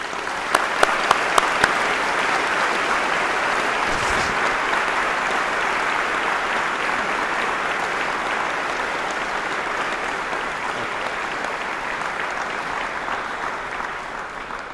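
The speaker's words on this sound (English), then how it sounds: "Could you please give them a round of applause?" Sustained audience applause at a school Memorial Day assembly, honoring graduating students entering the military; a few sharp claps start it, then steady dense clapping fills the room for the full length without speech.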